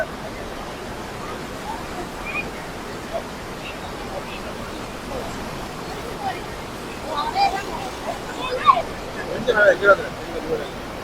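Floodwater spills over the bank of the Iranaimadu reservoir in Jaffna, a steady broad rushing roar that holds throughout and swells slightly near the end, with faint distant voices mixed into the wash.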